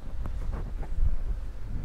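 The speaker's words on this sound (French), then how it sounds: "Ce vent est quand même assez gênant ce soir." Steady low night wind rumble buffeting the microphone in Bourgoin-Jallieu, continuous and fairly loud, with gusty swells throughout and no voices.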